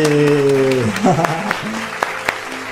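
A few scattered, sharp hand claps at home, following a voice at the start and spaced unevenly over a few seconds.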